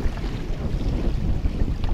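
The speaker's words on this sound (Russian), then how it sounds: "На улице большой ветер." Strong wind buffets the microphone outdoors by a river on a spring fishing outing, a steady loud low rumble with gusty fluctuations and no voices.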